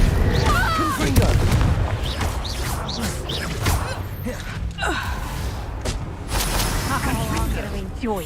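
A Confringo blasting spell cast in the video game Hogwarts Legacy bursts with booming impacts and crashing effects over a busy combat backdrop, with voices and effect chirps mixed in throughout.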